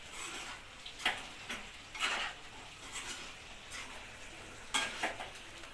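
A spoon stirs chicken curry with tomato and coriander in a pan: soft, faint sizzling broken by a handful of scraping strokes, each one brief and spaced about a second apart.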